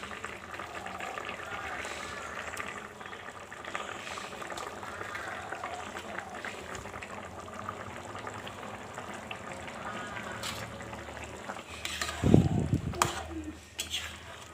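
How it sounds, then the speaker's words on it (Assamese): Fried fish pieces slowly lowered into a simmering Assamese sour fish curry (masor tenga): a steady low bubbling throughout, then a brief louder splash and sizzle near the end, with a voice talking faintly over it. "আৰু এতিয়া ইয়াতে মই ফ্ৰাই কৰি থোৱা মাছ কেইপিচো এনেকৈ লাহে লাহে দি দিম।"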